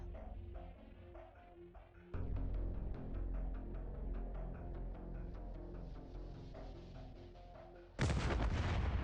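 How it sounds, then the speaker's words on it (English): Heavy booming blasts in the video game Arknights, a dense run of rumbling impacts building to a sudden loud final burst, with no talking. "Okay, that was a big explosion."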